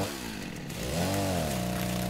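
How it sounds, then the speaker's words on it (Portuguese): Chainsaw in the survival video game Rust runs in a continuous, loud buzzing drone that rises in pitch partway through, alone with no speech. "motosserra pra comemorar"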